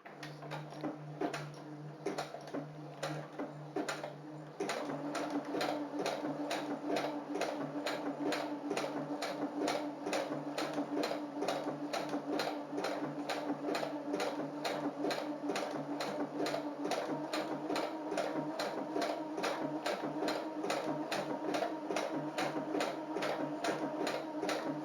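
A Brother FS-40 sewing machine stitches fabric in a long, continuous rapid ticking run, close and steady, with a softer lead-in before it settles into full speed.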